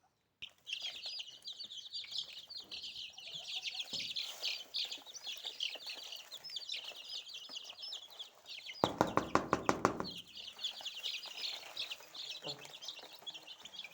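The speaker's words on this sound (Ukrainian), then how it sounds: "Ось так їдять наші курчатка" A crowd of chicks cheeps and chirps continuously while feeding, with a brief burst of rapid pecking or tapping midway, fairly close.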